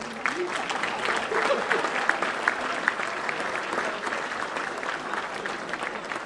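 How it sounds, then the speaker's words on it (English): Audience at a 25th anniversary gala dinner applauds after a prayer, a sustained dense round of clapping with murmuring voices mixed underneath, steady in level throughout. "I think we can have a clap for a prayer."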